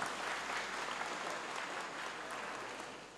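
A congregation at an Islamic religious gathering claps together in a steady, dense burst of applause that stays loud throughout and tapers slightly at the end.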